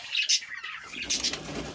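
Quick bursts of wings flapping as pigeons are released and take off, with a few soft chirps and rustling nearby.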